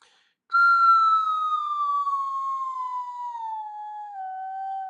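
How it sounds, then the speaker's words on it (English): A single loud whistle tone begins abruptly after a short silence and glides steadily downward from high to low pitch over several seconds, clear and alone, spanning about an octave over an octave. "it changes in pitch a lot, right? It goes from really high down to low."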